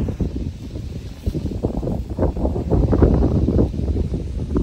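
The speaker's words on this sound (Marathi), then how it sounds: "काय बघा वादळ." Storm wind gusts and buffets the microphone at an open bullock-race ground, a rough, rumbling roar that swells and fades in uneven bursts.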